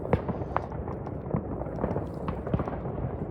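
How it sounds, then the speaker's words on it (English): Scattered New Year's fireworks and firecrackers popping in the hills of northeastern Germany, irregular sharp bangs and crackles heard from a moderate distance over a continuous low rumble. "Now the firework is on."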